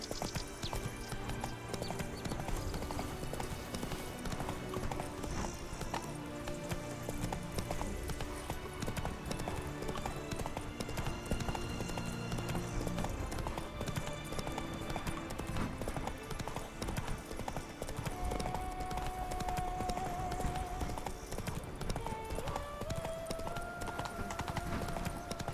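Horse hooves clip-clop steadily in The Witcher 3 video game, a continuous even rhythm of hoofbeats layered under game music and ambient sound.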